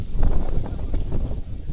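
Strong wind buffets the microphone continuously at a hilltop viewpoint at Koheda Gutta near Hyderabad in rainy weather, a loud low rumble with gusty surges throughout.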